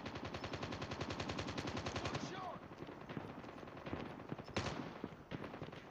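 Rapid automatic gunfire from Call of Duty Mobile, a dense, steady burst of shots lasting about two seconds, then scattered single shots and game effects, with occasional talk underneath.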